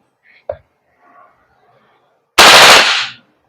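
An Umarex HK416D full metal airsoft gas blowback rifle fires one sharp, loud burst in burst mode after a quiet moment with a faint click and soft murmuring.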